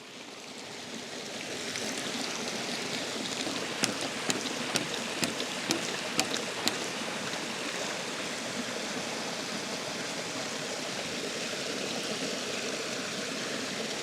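Water rushes steadily through a Pop Start siphon running full, a constant close gushing wash with a few faint clicks early on.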